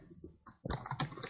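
Typing on a computer keyboard while writing HTML code, a few soft taps followed by a quick run of close, crisp keystrokes.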